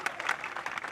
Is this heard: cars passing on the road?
no